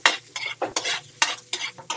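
A spatula stirs garlic, onion and black pepper sautéing in hot oil in a pan, rhythmic scraping strokes about every quarter second over a soft steady sizzle.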